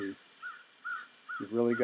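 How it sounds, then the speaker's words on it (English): Crows cawing near a tall tree where owlets are nesting, three short evenly spaced caws followed by a louder cluster of harsh calls at the end, with a brief bit of talk at the start. "The crows just came by"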